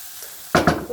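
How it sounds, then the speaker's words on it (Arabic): Onions fry in a pan for a potato and minced-meat tortilla. After a half-second lull, two loud, close bursts of sizzling and stirring follow. "كيما راكم تشوفوا تقلالي شويه البصل تاعي"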